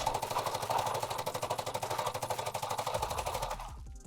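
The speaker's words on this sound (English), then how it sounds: "I'm going to bring out the PKM so we can look at that. Okay, so here's the PKM. We're going to move over and let it rip." PKM light machine gun firing in Call of Duty Warzone, one long sustained automatic burst of rapid, evenly spaced loud shots that stops abruptly just before the end.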